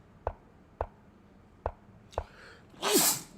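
A single short sneeze bursts out nearby after several soft, evenly spaced taps of chess pieces being set on a board during a national chess championship game.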